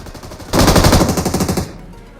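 Automatic gunfire in the mobile battle royale game BGMI rattles out as one loud, rapid burst of about a second, close and sharp, with no talk.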